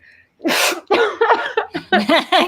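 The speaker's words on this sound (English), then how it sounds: "hold on, I gotta sneeze" A single loud sneeze bursts out close up, followed by a quick run of voiced sounds.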